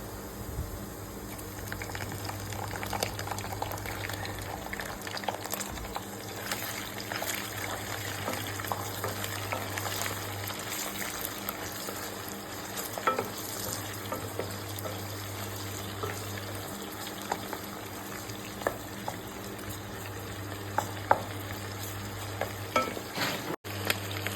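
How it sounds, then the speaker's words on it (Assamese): Small shrimp fry in oil with browned onions for an Indian rice dish, sizzling and crackling steadily with frequent spoon stirs and scrapes throughout, no voices. "মই তেতিয়া বাছি থোৱা মিছা মাছকেইটা এনেদৰে দি দিম তেলতেই"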